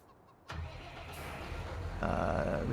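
A tractor engine in the farming game Farming Simulator 19 cranks and fires up after a quiet moment, settling into a low rumbling idle that grows louder and rougher toward the end.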